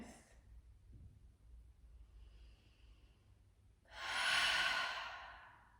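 Deep cleansing breath during a yoga flow, a faint inhale through the nose followed by a loud, long exhaling sigh through the mouth, close to the microphone with no talking.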